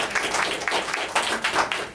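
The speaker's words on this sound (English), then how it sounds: "Please give a huge round of applause for Akshita" Applause for a participant at a question-and-answer session, a dense patter of many hands clapping steadily at moderate level for the whole stretch, with no voices over it.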